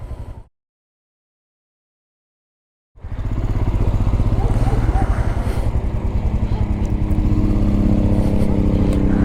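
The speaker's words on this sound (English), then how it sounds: "Even while revving it, I don't feel a lot of vibration on the motorcycle." Royal Enfield Scram 440 motorcycle engine running on the road, a steady loud low drone that starts after a short silence and holds at an even level for the rest of the clip.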